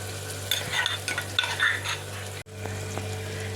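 Ground chili masala and tomatoes sautéing in oil in a pan for a Gujarati chana shaak, with steady sizzling and quick stirring scrapes that rise and fall, then a brief cut and a quieter simmering sizzle.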